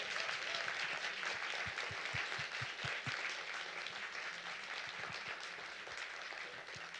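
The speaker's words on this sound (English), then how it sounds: "Can we get another round of applause for Jenny George?" An audience at a poetry reading at Smith College's Poetry Center claps for a poet, producing a soft, distant, continuous wash of applause that stays even throughout.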